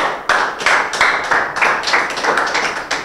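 Audience at a BMS rap battle claps for a rapper, bursts of hand claps rising and falling over about three seconds, loud and close with no talking.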